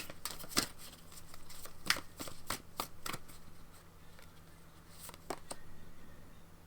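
Tarot cards being shuffled and drawn at close range, a series of sharp riffling bursts and flicks in irregular clusters, quiet and without talk.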